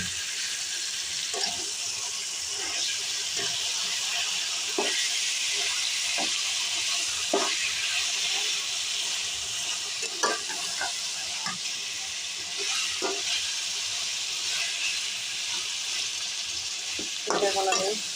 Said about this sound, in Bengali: আমার যে মাংসটা আমি মাখিয়ে রেখেছিলাম সেটা এখন আমি এই বেরেস্তা, তেজপাতা, মরিচের উপরে এখন আমি মাংসটা ঢেলে দিব